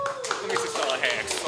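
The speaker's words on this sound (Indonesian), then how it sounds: "Oke langsung kita sambut tepuk tangan buat Timothy." An audience at a football talk show claps for a guest, a short burst of hand claps mixed with cheering voices and chatter.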